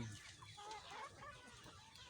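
Free-range chickens cluck softly in a busy outdoor setting, with a steady wash of background noise.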